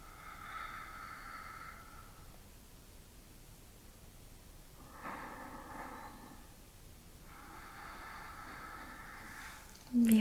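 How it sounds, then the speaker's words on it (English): Slow, deep breaths during a yoga front split come as three long, soft, airy exhales with quiet pauses between them, close and gentle. "let's take 2 more deep breaths"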